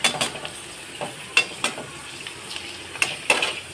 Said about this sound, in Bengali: ফুচকাগুলো ভালোভাবে ভেজে নেব